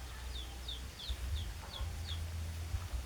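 Chickens in an upgraded coop at a rural home, with several short chirping calls repeating at intervals over a low rumbling background, fairly faint and with no talking.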